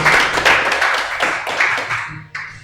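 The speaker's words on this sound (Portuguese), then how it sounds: "Uma salva de palmas para nossos irmãos." Applause at a church podcast gathering, a handful of nearby people clapping in loose, uneven bursts that fade toward the end with a final lone clap.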